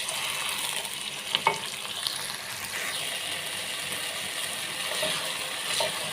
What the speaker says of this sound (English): I'll stir the tomato until the juice is dry.